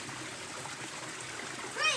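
Water streams and trickles steadily behind a rubber plantation, flowing out at a small waterfall, a constant close wash with a brief splashy burst near the end.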